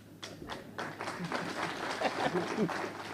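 Audience at a Gujjar Bakarwal conference breaks into applause, clapping building and continuing steadily, with a voice speaking over it.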